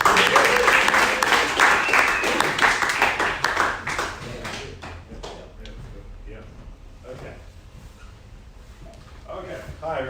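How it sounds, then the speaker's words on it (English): Loud round of applause from an audience at a genomics and transhumanism science talk, dense clapping fading after about four seconds into scattered claps and murmuring voices. "Another round of applause for James."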